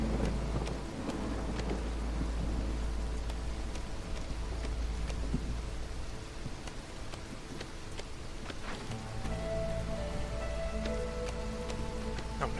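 Rainstorm in the video game Against the Storm: steady rain patters on surfaces with a low, constant rumble beneath, even and unbroken throughout.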